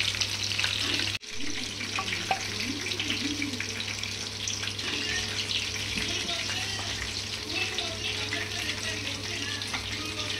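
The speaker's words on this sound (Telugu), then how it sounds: "ఈ కలర్ వచ్చే వరకు మనం డీప్ ఫ్రై చేసుకుంటే సరిపోతుంది" Chicken lollipop drumsticks deep frying in hot oil give a steady, dense sizzling hiss that runs without a break for about ten seconds after a short cut near the start.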